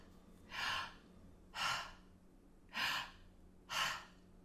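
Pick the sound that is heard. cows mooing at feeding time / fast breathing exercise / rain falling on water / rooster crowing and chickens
fast breathing exercise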